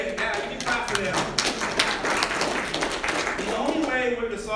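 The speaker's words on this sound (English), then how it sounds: "we can clap for them" An audience claps in a scattered, brisk burst that gradually thins out, with a speaker's voice talking over it.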